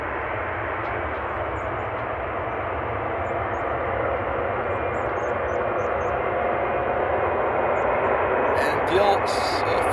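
An Embraer E190 jet takes off at Amsterdam airport with a loud, sustained engine roar that holds steady and swells slightly toward the end, a voice speaking over it near the close.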